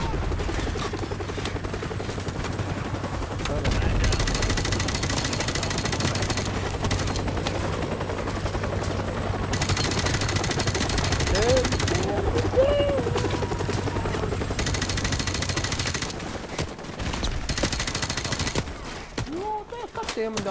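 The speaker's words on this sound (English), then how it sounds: "Helicopter coming." A helicopter drones steadily beneath bursts of machine-gun fire in the video game Call of Duty: Modern Warfare Remastered on PS4, the gunfire loud and sustained for much of the clip before dropping off near the end.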